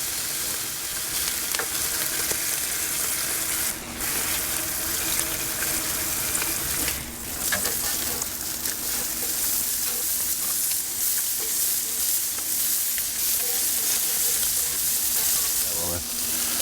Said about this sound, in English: Since the breakfast sausage is raw, I wanna get them started too.